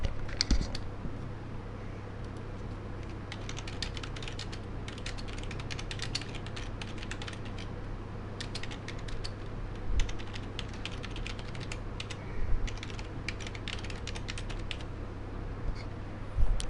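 Typing on a computer keyboard, a quiet, continuous run of crisp key clicks in irregular bursts over a faint low hum.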